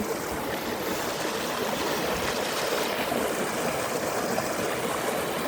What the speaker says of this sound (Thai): อันนี้ลำธารหลังบ้าน